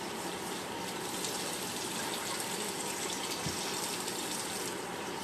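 Hands washed under running tap water outdoors while cooking catfish, a steady, even gush of water flowing without pause, moderately close and fairly quiet.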